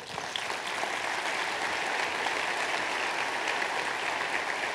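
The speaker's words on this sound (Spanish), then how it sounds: "Dale un aplauso a Jesús." A church congregation claps in unison-free, steady applause during a sermon, a continuous moderate wash of many hands lasting several seconds without speech.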